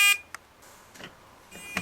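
An alarm panel's buzzer gives a few short, sharp electronic beeps at irregular intervals, fairly faint and alone.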